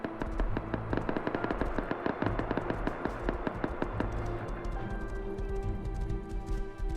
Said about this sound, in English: That many SAR shots going off at once?